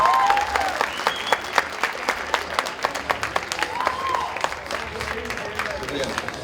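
An audience at an Amjad Sabri qawwali concert in Chicago claps steadily and densely for several seconds, with individual claps standing out sharply against a crowd murmur and faint voices.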